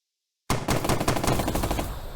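Gunfire bursts abruptly out of silence in the WWII turn-based game Burden of Command 3, a dense, loud rattle of overlapping rifle and machine-gun shots that keeps going until the end.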